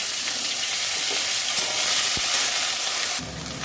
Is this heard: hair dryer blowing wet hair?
no